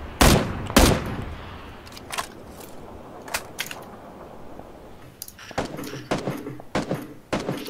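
Gunfire in PUBG: two loud close shots at the start, then scattered single cracks and a tighter cluster of quicker shots near the end, over quiet background ambience.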